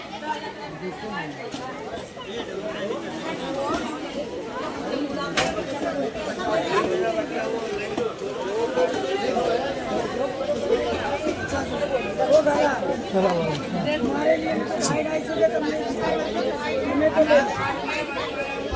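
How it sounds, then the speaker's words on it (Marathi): Dense crowd chatter fills the Shivajinagar fish market on road number two, a steady, close babble of many overlapping voices with occasional clatter, unbroken throughout. "बघा ही गर्दी"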